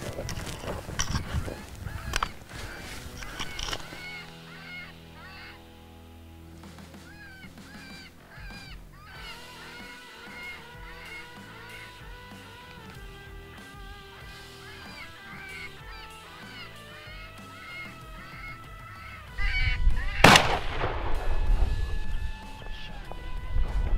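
An electronic predator call plays outdoors during a bobcat hunt in Arizona, looping warbling squeals and honking animal-distress cries at steady volume, ending in a sudden loud burst.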